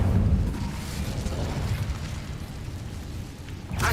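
A fire spell cast in the Hogwarts Legacy video game, a loud whooshing burst that erupts at the start, roars briefly and fades into a lingering rumble, with a second flare at the end.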